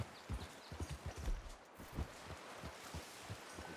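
Horse hooves clip-clop in Red Dead Redemption 2, a quiet, uneven run of soft thuds at a walking pace, close and alone with no talk.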